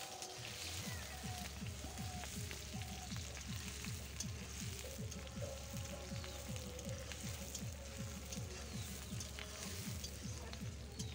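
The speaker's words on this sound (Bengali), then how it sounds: "দেখুন একটু লাল লাল করে ভেজে নিচ্ছে এটাকে।" Onion, chilli and garlic fry in hot oil as a tempering, giving a steady, close crackling sizzle with a regular low pulsing underneath, with no talking.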